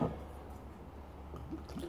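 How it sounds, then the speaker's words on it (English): Beer is poured slowly from a bottle into a container, a soft glugging, liquid gurgle with a few squishy drips over a low steady hum, close and fairly quiet. "just continue pouring the bottles of beer in one by one, slowly if possible"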